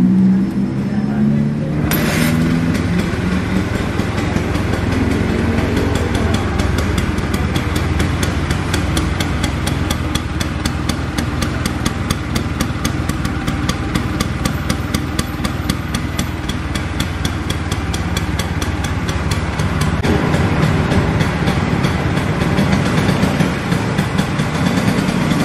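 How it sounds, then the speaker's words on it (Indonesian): A 1974 Vespa Super scooter engine warming up at idle, a steady close mechanical drone with rapid ticking pulses running unbroken for the whole stretch. "Ya, panasin mesin aja."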